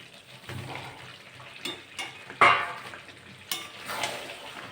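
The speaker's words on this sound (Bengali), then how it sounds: "এবার আলুগুলো দিয়ে অনেক কিছুক্ষণ কষাই নেব" Potatoes and chicken sautéing with spices in a pan, soft sizzling broken by several distinct stirring scrapes and clinks, close and fairly quiet.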